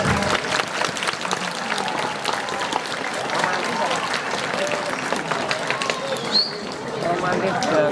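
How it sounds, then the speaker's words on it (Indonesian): Audience clapping at a Maulid Nabi Muhammad SAW commemoration. It is a moderate, uneven patter of hands that runs for about eight seconds, mixed with voices and crowd murmur. "Tepuk."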